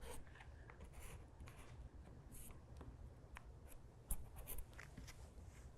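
A pen or marker draws a circle on fabric for visible-mending embroidery, giving faint, close scratchy strokes that rise and fall softly over a quiet background.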